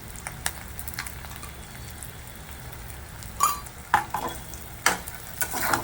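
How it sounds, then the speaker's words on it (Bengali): Spices are stirred into potatoes frying in a pan, with a constant low sizzle broken by several sharp scraping and clinking strokes of the spoon, close and without talk. "এটা দিয়ে ভালো করে মশলাটা মিশিয়ে নেবো আলুগুলোর সাথে"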